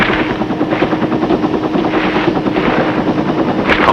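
Military helicopters airlift Marines in Vietnam, their rotors beating in a loud, steady, continuous thrum that fills the whole stretch, with no voices.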